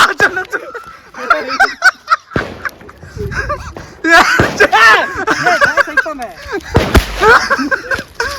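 Several sharp, loud firecracker bangs burst out one after another amid crackling pops at a New Year celebration, with people shouting and talking throughout.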